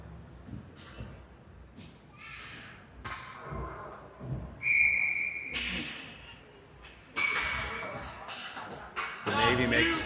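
Referee whistle at a Navy versus Capitals Academy ice hockey game, a brief shrill blast amid arena crowd noise, skate scrapes and a commentator talking throughout, with another faint whistle later.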